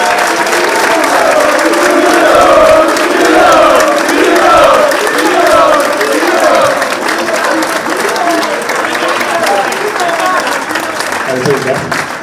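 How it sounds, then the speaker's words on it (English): Steady applause fills a room at a football supporters' association awards evening, sustained and loud for the whole stretch with a murmur of crowd voices and a few cheers. "everyone needs to give him a round of applause"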